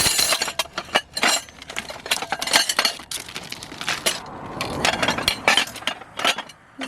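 Silverware clinking and clattering against other discarded items while rummaging through household trash, with sharp metallic chinks and glassy knocks in irregular bursts, close and fairly loud throughout.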